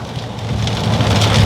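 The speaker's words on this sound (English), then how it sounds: "Be a rain out there. Whole heap of rain." Heavy rain falls outside in a dense, steady hiss of drops, fairly loud and close, swelling slightly toward the end, with no voices.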